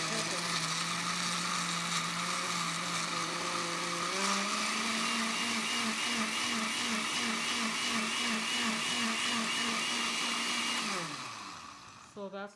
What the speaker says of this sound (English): and then we're gonna blend it